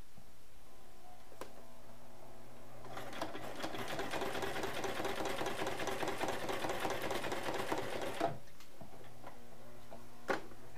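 Sewing machine stitching a straight line through a Graphic 45 paper card holder, a rapid ticking run of about five seconds, close and alone, with a few single clicks before and after.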